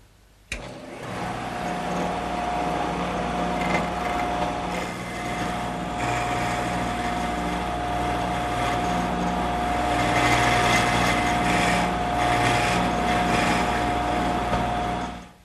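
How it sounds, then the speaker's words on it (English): A woodworking router fitted with a triangular cutter whines at a steady high pitch while cutting decorative details, a continuous loud machine drone that holds for the whole stretch and swells slightly toward the end. "Now I've installed a triangular cutter, and I'm going to use that to cut the details first."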